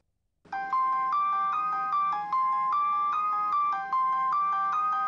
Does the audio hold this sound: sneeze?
no